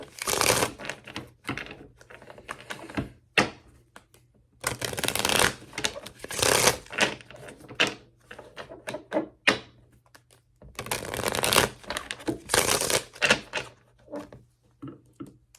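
Repeated bursts of crisp, papery tarot card shuffling come in several separate rounds with short pauses between them, close and fairly quiet, with no voices.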